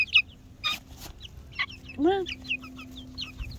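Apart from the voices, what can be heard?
four-week-old chicken chicks cheeping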